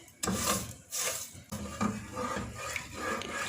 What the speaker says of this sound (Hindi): चम्मच इसमें चलाते रहना है